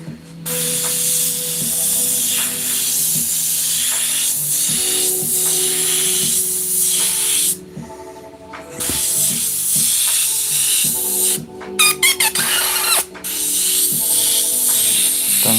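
An airbrush sprays paint in a long, loud, steady hiss, with brief pauses and a few short clicking bursts between passes.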